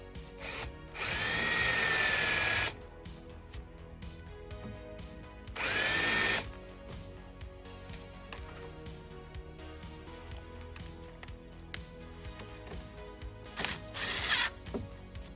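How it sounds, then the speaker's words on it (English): A hand-held power reamer tool countersinking screw holes in a model railroad layout, two loud steady whirring bursts with a short third near the end, separated by quieter clicking and handling noise. "I'm going to use the reamer tool."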